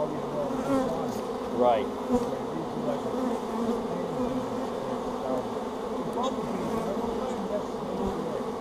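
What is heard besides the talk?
bees buzzing near a honey bee swarm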